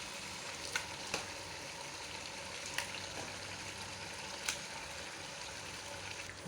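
Pieces of local deshi chicken frying in a pan, a steady close sizzle with occasional sharp clicks of stirring, fairly quiet and without talk.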